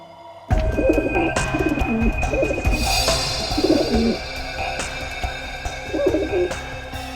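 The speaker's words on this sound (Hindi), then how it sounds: "मेरे कबूतर है अंदर में।" Pigeons coo repeatedly in soft, throaty phrases, close by, over a steady background hum with a few faint chirps.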